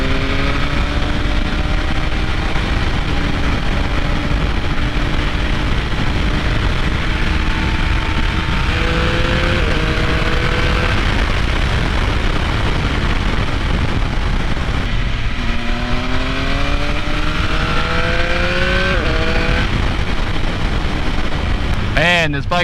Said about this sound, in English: Man, this bike sounds so good.